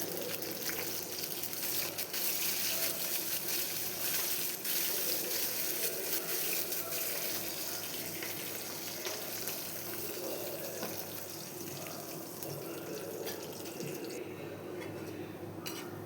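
Curry leaves hitting hot oil for a potato fry, a continuous bright sizzle and crackle that holds steady for the whole stretch, close and fairly loud with no one talking.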